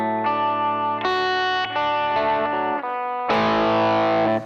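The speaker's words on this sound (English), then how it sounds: "So if you pick hard, you get more of that grit, you get more of that distortion" Electric guitar run through the TH-U amp simulator with heavy distortion, playing loud sustained chords that change several times, with a final chord struck harder and grittier.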